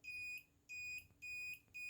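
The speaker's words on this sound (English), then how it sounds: "It's a real high pitch. And for my ears, it's pretty quiet, that beep when it actually turns on." A Mark 7 Evolution reloading press powers on with a string of four short, very high-pitched electronic beeps, evenly spaced, quiet and alone.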